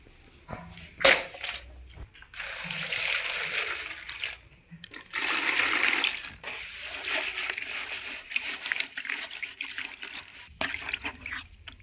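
Tap water runs and splashes in bursts as leaves are washed by hand indoors, with gushing stretches broken by short pauses and clattering handling noises close by.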